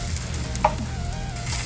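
A Cambodian crepe, banh chev, fries in a pan with a soft, steady sizzle and one brief scrape or tap near the start, no voices.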